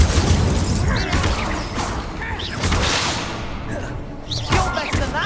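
An Incendio fire spell cast in Hogwarts Legacy during combat, with loud whooshing bursts and thudding impacts layered over game ambience and several brief swishes in quick succession.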